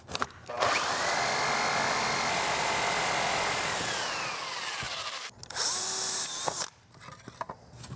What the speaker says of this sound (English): I also have to drill a hole in this piece of wood.